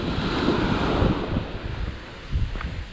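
Indian Ocean waves wash onto the shore in a steady, loud roar, with strong wind buffeting the microphone throughout.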